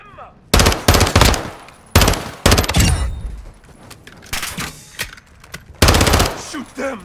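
Machine gun fire in Call of Duty Modern Warfare 2, loud close bursts of rapid automatic shots separated by short gaps.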